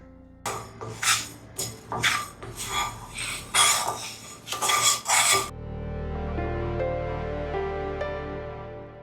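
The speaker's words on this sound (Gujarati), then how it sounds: "મેથીને સારી રીતે રોસ્ટ કરી લેવાની બહુ દાજવાની દેવાની બસ કેવળ રોસ્ટ થઈ જાય" Fenugreek seeds are dry-roasted in a metal pan: a run of sharp, close metallic clinks and scrapes as a spoon stirs them, then a steady low hum for the last few seconds, with no voices.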